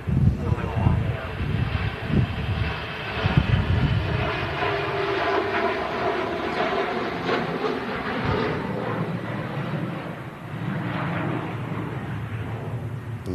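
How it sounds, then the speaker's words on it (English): TAP Air Portugal Embraer jet rolling for departure to Lisbon, a steady broad engine roar building and holding throughout, with wind buffeting and bursts of low rumble, heard from a distance at a windy airfield. "Tap Air Portugal on the roll back out to Lisbon. Decent length flight on the Embraer."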